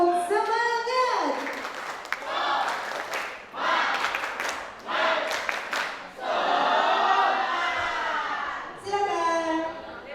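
A group of madrasah junior-high students claps a rhythmic spirit clap mixed with cheering and shouting voices at a school graduation farewell event, loud bursts that rise and fall over about ten seconds.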